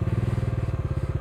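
A motorcycle engine chugs with an even, rapid pulsing beat as the bike crosses rubble and slush on a mountain track, close and alone.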